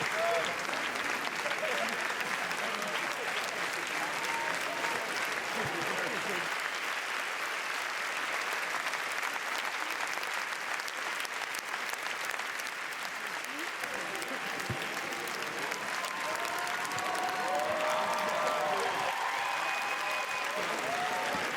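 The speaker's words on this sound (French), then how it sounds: "je vais vous laisser écouter l'ovation du public pour Nadine Labaki, Zayn Al-Rafia et toute l'équipe de Capharnaüm" Sustained audience ovation for Nadine Labaki, Zain Al Rafeea and the Capharnaüm film team: dense, steady applause from a large crowd, with scattered cheers and whistles rising above the clapping throughout.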